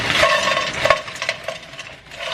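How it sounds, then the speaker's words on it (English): A bag of Costco frozen stir-fry vegetables tumbles into a pan, with close clattering and rattling as the pieces land, followed by a softer scraping stir and faint sizzle. "I'm gonna put my stir fry in first, just some regular old Costco"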